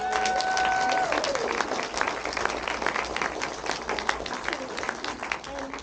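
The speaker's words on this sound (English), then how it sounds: "maybe we can give a round of applause as a thank you for what you've done for" A film festival audience applauds during a Q&A session, with continuous crowd clapping and a brief tonal sound near the start, and voices mixed faintly into the clapping.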